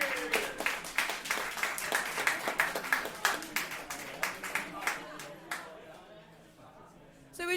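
A live-show audience keeps a steady rhythmic clap going during a band changeover at the Orange Show. The claps land in regular, fairly close beats with murmuring underneath and fade out near the end.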